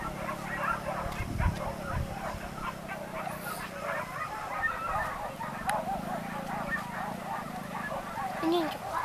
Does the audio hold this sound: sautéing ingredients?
no